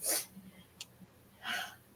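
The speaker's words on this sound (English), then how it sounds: "I was going to sneeze there first" A brief, soft sneeze bursts out at the start, followed by a faint click and a second breathy burst, all quiet and close.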